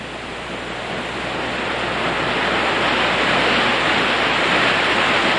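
Bulil Waterfall pours down into a deep gorge, a dense, steady roar of falling water that swells slightly and fills the whole scene without pause or voices.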